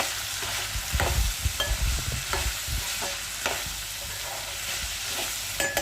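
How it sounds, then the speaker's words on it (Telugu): Salted potato and carrot fry stirred in a pan, with close, distinct scraping strokes of a spoon over a continuous low sizzle, about a handful of firm stirs spread across the stretch, no voices. "బాగా కలుపుకోండి"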